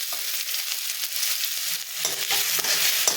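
Onion frying in a pan with ginger-garlic paste and green chili gives a loud, steady sizzle, broken by stirring scrapes that pick up toward the end. No one speaks.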